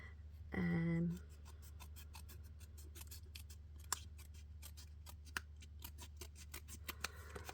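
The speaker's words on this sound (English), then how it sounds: "Just using my snips here." Snips trim paper letters close up, a run of crisp regular snapping cuts and small clicks, quiet and close, after a short burst of speech.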